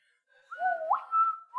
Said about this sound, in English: Ted, let's hear that whistle again.